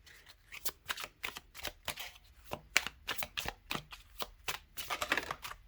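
Tarot cards are handled and laid out one after another: a close, steady run of crisp flicks, slides and soft slaps in an uneven rhythm, with no voices.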